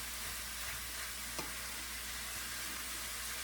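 Bolognese sauce with broken-up meat sizzles steadily in a pan, a dense continuous crackle with a faint scrape of stirring, close and unbroken, no voices.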